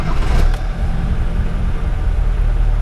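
A VW Gol Turbo engine running just after a hot start, a steady, loud mid-range idle with a brief rev near the start, close by and without talk.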